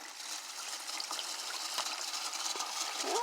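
A DIY spray bidet set to shower mode sprays water onto someone's hands, a steady hissing gush that holds fairly constant for a few seconds.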